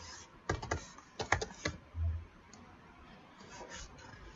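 Keys tapped on a computer keyboard while entering an EMCLI login command for Enterprise Manager 13c, several quick bursts of clicks with short pauses between them, close up and alone.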